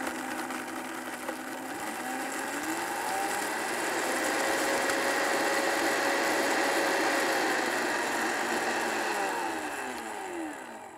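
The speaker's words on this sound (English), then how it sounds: "I started out at kind of a medium speed, and then I slowly cranked it up as the chili started to grind" An electric grinder powders dried chilies for torta ahogada, a steady loud motor whine that rises in pitch as the speed is gradually cranked up, then winds down near the end, with no talk.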